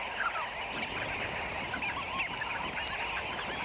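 A flock of sandgrouse calling busily together at a Namibian desert waterhole, a dense chatter of overlapping honking and chirping notes, close and continuous with no talking.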